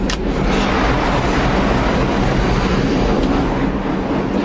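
A subway train rumbles past at close range, loud and continuous with a heavy low roar and a few sharp clicks of wheels on track, no voices over it.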